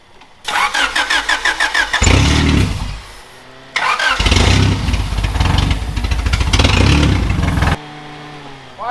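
An engine dosed with ether sprays cranks in a rapid rhythmic chug, fires up and runs loud, stops, then cranks and catches again, running steadily up close before cutting off.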